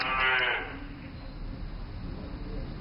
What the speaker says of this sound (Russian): Это что, была корова?